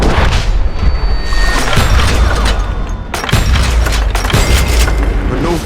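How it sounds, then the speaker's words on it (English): Heavy, booming double-barrel shotgun blasts in the Western shooter Call of Juarez: Gunslinger, loud and dense, with several thuds over continuous rumbling battle noise. "Robert Ollinger appeared with his terrible double-barrel shotgun."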